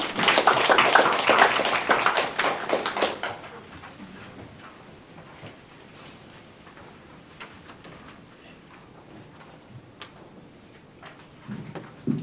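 Hall audience at a public forum on civic-government cooperation applauds to welcome a guest speaker: a loud burst of clapping for about three seconds, fading into scattered claps, light taps and rustling, then a brief sound at the end.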